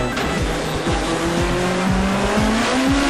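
A twin-engined Mini race car with two R1 motorcycle engines revs hard, its note climbing and dropping repeatedly through rapid gear changes, loud and close throughout.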